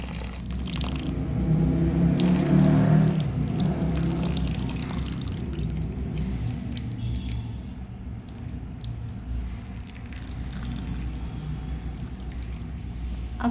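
Mango pickle is worked by hand into salty brine, making wet, sloshing squelches and a soft swishing of liquid that rise and ease over several seconds, with no talk.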